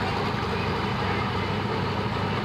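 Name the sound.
Ford Power Stroke diesel truck pulling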